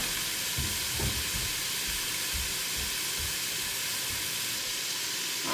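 Browned pork sizzles in a pan as onions and cabbage are added. The frying hiss is loud and steady, and several soft thuds and stirring knocks come from the pan. No one speaks.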